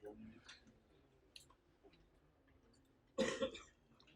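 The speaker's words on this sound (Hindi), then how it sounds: "भाई ने खांसी कर ली" A single sharp cough bursts out near the end in a quiet lecture room, preceded by faint throat noises and small clicks.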